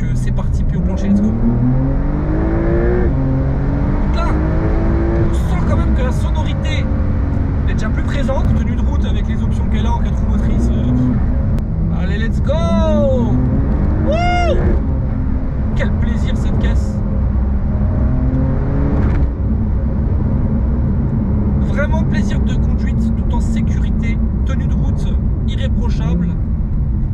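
A Porsche 992 with an automatic gearbox pulls away at full throttle in Sport Plus mode, its engine note climbing steadily and loudly through the gears while someone talks over it almost throughout.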